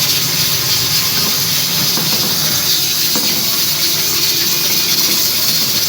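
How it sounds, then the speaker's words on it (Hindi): Garlic paste fries in oil in a pot with a steady, loud hiss and crackle that runs without pause from start to finish. "इसको भी भून लेते हैं।"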